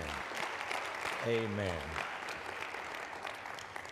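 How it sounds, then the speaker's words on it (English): A church congregation applauds mothers on Mother's Day, sustained clapping filling the hall while a voice calls out briefly over it. "Let's give our mothers another round of applause"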